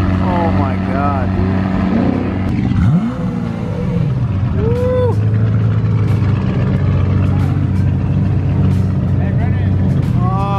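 Lamborghini at a JDM car meet revs its exhaust, engine pitch sweeping up and down in throaty bursts over a steady idle, close and loud, with people talking nearby.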